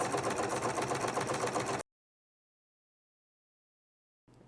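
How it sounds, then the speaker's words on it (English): A serger overlocks dress fabric pieces with a fast, steady mechanical whir that cuts off abruptly, followed by a stretch of silence and a brief resumption at the end. "I'm going to serge all of it just to make it a little easier."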